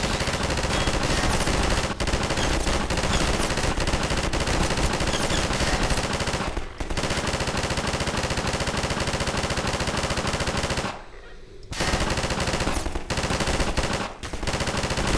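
Sustained automatic gunfire from Half-Life 2 rattles almost without pause, loud and dense, broken only by a few brief gaps before the shooting resumes.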